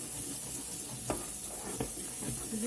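Small onion pieces sizzle steadily as they brown in a pan, a continuous close frying hiss punctuated by a couple of soft stirring knocks, with no voices.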